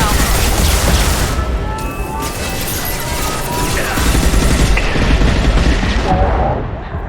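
Sustained gunfire and explosive booms from a Mass Effect 2 firefight, dense and loud throughout, with voices talking over the battle.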